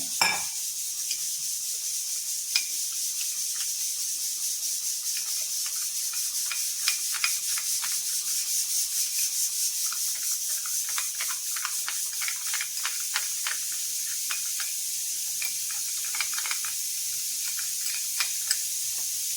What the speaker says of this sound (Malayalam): ഇത് നന്നായിട്ടൊന്ന് എല്ലാം കൂടി ഒന്ന് മിക്സ് ചെയ്യുക